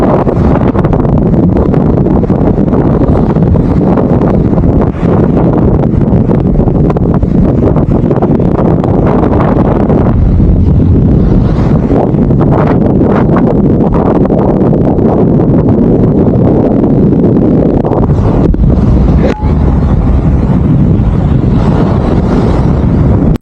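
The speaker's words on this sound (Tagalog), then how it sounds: "isa din sa dahilan yung malakas na hangin at alon kaya hindi din ako makaligo" Steady roar of strong wind buffeting the microphone, with surf and waves churning underneath throughout; no voices.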